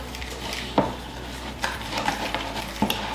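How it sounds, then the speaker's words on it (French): Chocolate cake batter stirred in a bowl for an Easter cake, a close soft scraping and sloshing with a few sharp knocks of the utensil against the bowl's side. "Hop, on mélange."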